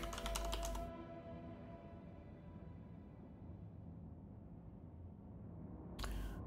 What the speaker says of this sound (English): This is my keyboard.